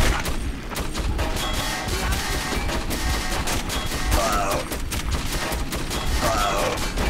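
Dense, continuous gunfire rattles through a Metro 2033 firefight, a sustained machine gun burst mixed with booms and clatter, loud and busy throughout with no clear gaps.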